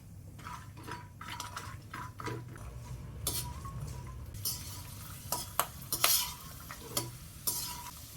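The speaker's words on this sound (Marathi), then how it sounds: "डिंक तळून घेतलेल्या तुपामध्येच आपण बदाम तळून घेऊया" Almonds fry in ghee left over from frying edible gum for laddoos, giving a soft steady sizzle broken by stirring scrapes and sharp clinks of a utensil against the pan.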